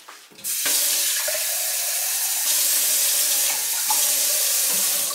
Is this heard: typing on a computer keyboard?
no